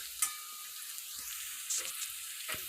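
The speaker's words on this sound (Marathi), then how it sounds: "आता हे सर्व मसाले फ्राय झाले आहेत" Spices frying in oil in a pan for stuffed bitter gourd give a steady, faint hiss of sizzling, with light stirring scrapes and clinks.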